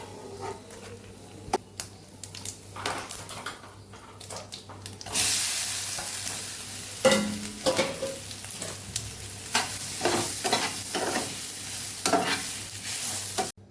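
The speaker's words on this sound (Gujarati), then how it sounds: "જે આપણે ટુકડા કરેલા છે એનો પણ વઘાર કરી લઈશું" Raw potato and onion pieces sizzle and crackle as they are tempered in hot oil, with a utensil stirring and clinking in the pan, some water splashing nearby.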